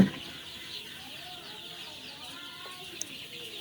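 Poultry chickens recovering from enteritis give soft, scattered clucks in a quiet shed, with faint low murmuring calls and a single sharp tap near the end.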